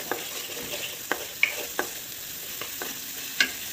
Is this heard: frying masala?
yes